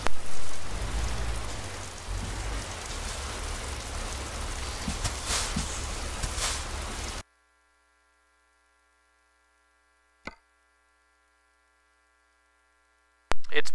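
Steady rain falls on a truck in American Truck Simulator, a dense even hiss for about seven seconds before cutting to near silence with a couple of brief clicks.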